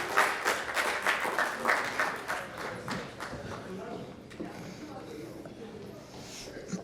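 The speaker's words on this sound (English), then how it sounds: "And now clap for it." An audience at a high school student Emmy awards ceremony claps, a burst of applause strongest in the first few seconds before thinning out, with a voice speaking over it.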